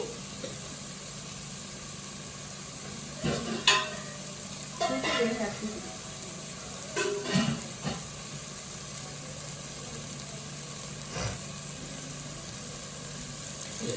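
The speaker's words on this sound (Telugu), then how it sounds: "ఇది మన ఉప్పు కారం పసుపు వేసాం కదా, మొత్తం అన్నీ ఒకసారి కలుపుకొని" A spoon stirs masala curry seasoned with salt, chilli and turmeric in a pot, giving a few scraping strokes in short bursts over a faint sizzle and a steady background hum.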